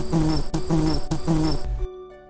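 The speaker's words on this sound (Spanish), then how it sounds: "En el ambiente se podía oír un suave zumbido. El zum se repetía una y otra vez entre las adelfas." A small bee buzzes among oleander bushes in a spring setting, a soft, repeated hum in three close pulses that cuts off before fading quietly.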